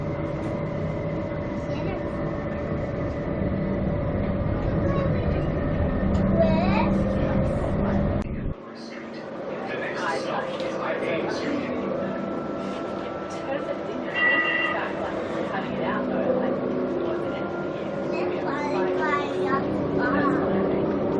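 A Canberra light-rail tram rolls along in motion, a steady low rumble and hum that cuts out abruptly midway before resuming with lighter rattles, chimes and tonal whirs, while voices talk over it.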